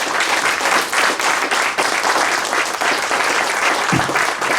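Audience applause fills the room at a fireside chat event in a museum venue, steady and dense clapping from a seated crowd lasting throughout.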